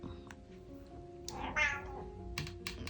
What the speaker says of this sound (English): Beg pardon if you can hear my cat.